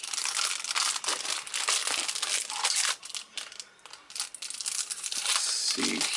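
Plastic model kit packaging crinkles and tears as it is cut open, a close, busy rustling that dips briefly midway before resuming.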